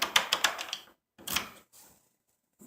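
A SmartCode rekeyable lock cylinder turned back and forth with a key gives a quick series of close, crisp mechanical clicks and clacks, then a second short burst and a faint tick.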